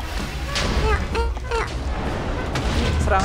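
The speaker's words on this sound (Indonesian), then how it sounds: "Serangan ledakan gini lumayan sih." Explosion attacks in Minecraft RLCraft ring out as a series of quick booms and bursts, some overlapping, with game effects chirping between them and no voices heard.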